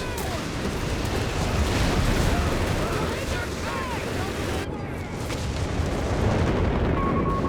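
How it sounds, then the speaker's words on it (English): Artillery fire in the Company of Heroes 3 war game: a dense, continuous barrage of rumbling booms and crackling blasts, loud and layered throughout, with a brief dip in intensity midway. "Artillery cooldown complete."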